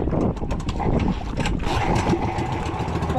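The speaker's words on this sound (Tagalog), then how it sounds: "Palyado ang ating makina." A boat engine misfires at sea, its rough, uneven rumble running continuously and loud alongside steady wind buffeting the microphone.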